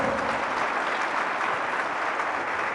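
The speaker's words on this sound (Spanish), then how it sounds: "Fuerte el aplauso" Steady, dense applause from a church congregation, continuous and loud throughout with no pauses.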